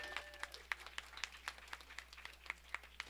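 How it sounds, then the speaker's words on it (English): Sparse, scattered hand claps from a church congregation during a service, a faint round of applause with individual claps spread evenly and no voices over them. "And let's give Cal one more round of applause."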